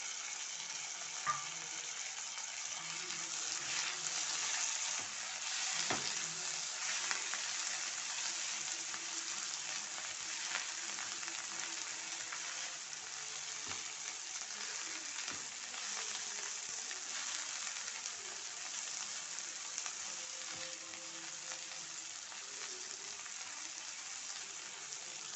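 Tomato and green chillies fry in a pan for pepper chicken, a close, continuous sizzle with occasional stirring scrapes and clinks, alone and steady throughout.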